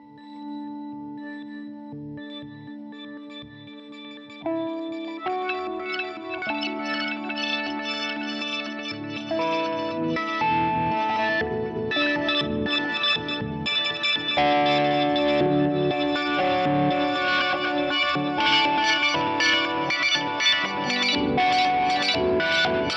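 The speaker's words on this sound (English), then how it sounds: "I'll put my EQ on and do that AM radio sound." Electric guitar played through an EQ pedal set for an AM radio sound, thin and filtered like an old radio, chords and melody building louder with chorus and distortion.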